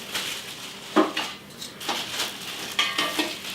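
A cookware lid being unpacked and handled during a kitchen cookware unboxing, with light clinks and knocks of metal and glass plus rustling packaging, close by and fairly soft, with no talking.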